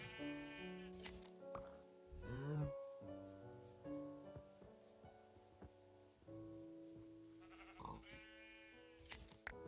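Sheep in a video game bleat in several short, wavering calls, one early and another near the end, over a steady layered musical hum and soft game noises.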